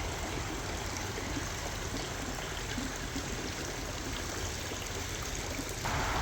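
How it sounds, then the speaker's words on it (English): Water pushed out behind an RC submarine as its thruster runs at full forward, a steady rushing, trickling wash that holds even and fairly loud throughout. "There, you see all that water getting pushed out back there."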